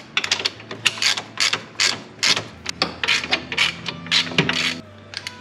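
A ratchet tightens washers, 19 mm nuts and 3/8 Allen bolts on an RS1 front differential of a Polaris RZR Turbo/XP 1000, giving quick bursts of close, sharp clicking with short pauses between strokes.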